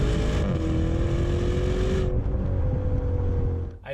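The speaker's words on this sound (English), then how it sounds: "They've done a good job tuning the exhaust note such that I hear what's going on." A 2020 Maserati Levante Trofeo performance SUV with a 590 hp turbocharged V8 drones loudly under acceleration, its exhaust note rising steadily in pitch and then easing off as the revs drop, heard from inside the cabin without talking.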